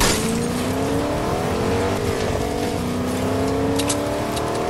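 A car engine droning steadily while driving in Fortnite, loud and close, with rising and falling pitch as it shifts and accelerates, no talking.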